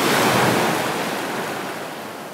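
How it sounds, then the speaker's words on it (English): Ocean waves from an Apple Vision Pro immersive environment wash in a continuous, loud surf roar that swells at the start and gently eases off, with no voices. "It's got some sounds of the ocean, I guess."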